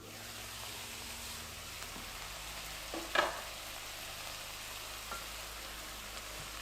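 Onions frying under a lid in a pan make a steady, even sizzle throughout, with one brief clatter near the middle and no voices.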